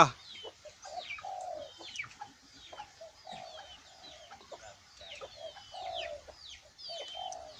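Decoy bird calls repeat at a moderate distance: sweet whistled phrases and short chirps recurring every second or so against a quiet background.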